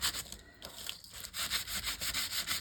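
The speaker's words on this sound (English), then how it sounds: "just sandpaper that glossiness off" Sandpaper scuffing the glossy face of a playing card, a fairly quiet, steady dry rasp in repeated short strokes with a brief pause partway through.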